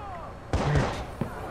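Gunfire in the Watch Dogs video game, a loud burst of shots with a heavy low boom, followed by a single shorter report a moment later.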